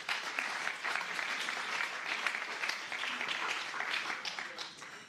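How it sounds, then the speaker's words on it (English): Conference audience applauding a keynote speaker at a city network closing event, a continuous, even round of clapping from a sizable crowd, heard from a little distance and sustained without pause. "Big applause for Edith Hammer."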